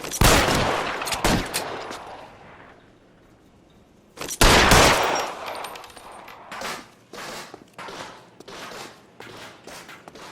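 Bursts of gunfire in the crime game L.A. Noire during a covering-fire shootout, with loud close volleys, a pause, then a long run of rapid repeated shots.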